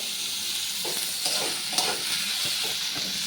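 Potatoes fry in a pan and are stirred, producing a bright, continuous sizzle with scattered soft scrapes and taps from the spatula, close and steady, with no talking.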